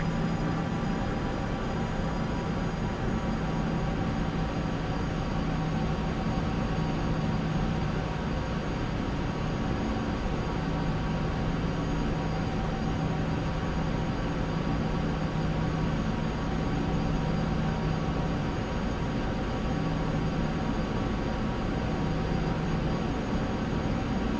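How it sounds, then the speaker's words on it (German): Boeing 737 jet engines in Flight Simulator X, idling and spooling up as the airliner taxis: a steady, droning turbine roar with whining tones, constant and unbroken throughout, with no talk. "Lösen Sie die Bremsen durch Drücken der Punkttaste und erhöhen Sie etwas den Schub, damit das Flugzeug ins Rollen gerät"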